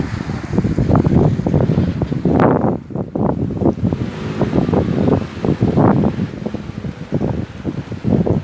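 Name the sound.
sea waves on a beach with wind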